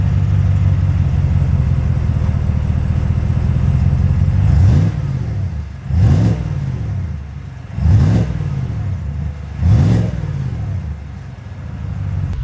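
A 2021 Chevy Silverado Black Widow pickup truck's engine drones steadily, then revs in four distinct surges as it pulls away, loud and close with no talking.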